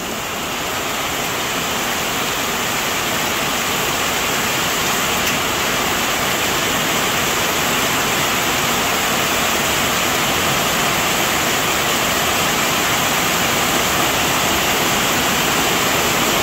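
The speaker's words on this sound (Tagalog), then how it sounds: "Ay umuulan na naman po." Heavy rain pours steadily and loudly for the whole stretch, a dense unbroken hiss with no pauses and no voices.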